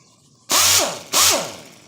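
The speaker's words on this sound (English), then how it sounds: "this is called an AirCat sander" An AirCat 6310 pneumatic dual-action sander runs in two short bursts, each a loud hissing whir that starts abruptly and tapers off, with a brief pause between them and no talking.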